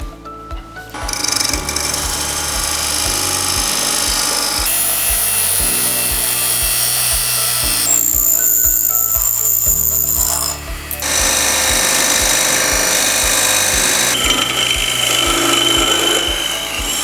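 Woodturning tools cut and scrape a wooden carving mallet head spinning on a lathe, a loud continuous rasping that shifts in tone as the tool moves, with a low motor hum throughout and brief pauses.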